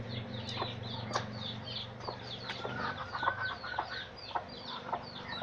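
Chickens eating papaya peel, clucking softly and repeatedly at close range, with scattered pecking and scratching noises and no speech.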